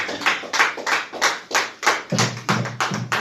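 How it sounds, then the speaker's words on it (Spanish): Church congregation clapping in rhythm during a worship service: loud, regular beats of many hands, about three per second, with a low thump joining in partway through. "dale ese aplauso fuerte al Señor"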